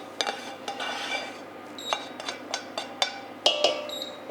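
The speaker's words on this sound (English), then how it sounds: "so you can scrape all the goodness off the bottom of that pan" Metal utensil scraping and clinking against a pan as its browned bits are scraped into a lamb ragu casserole, a series of quick, close rasps and taps in an uneven rhythm.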